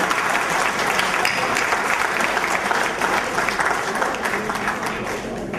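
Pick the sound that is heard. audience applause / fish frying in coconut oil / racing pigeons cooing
audience applause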